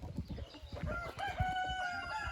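A flock of rescued hens clucks and calls in a busy mix of overlapping short clucks and longer drawn-out notes, close and fairly loud, with no talk.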